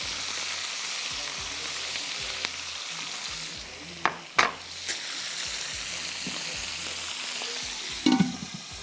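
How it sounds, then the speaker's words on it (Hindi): Chopped onions frying in a pan for a chicken tawa masala, a steady dense sizzle with occasional stirring scrapes and clatters, close and continuous without talk. "प्याज डाल दीजिए 1 कप चॉप"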